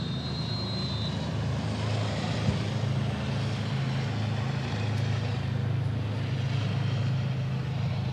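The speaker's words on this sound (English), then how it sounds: "Helicopter flies over the field here." A helicopter passes over a college soccer field during a men's match, its engine a steady, broad rumble filling the air with no talk over it.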